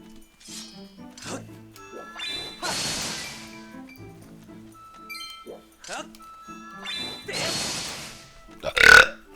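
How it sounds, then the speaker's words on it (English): Loud burps in Skyward Sword HD: several long, raspy belches spread across the clip, the last one the loudest, with someone talking in between. "Good God, that was a big burp too."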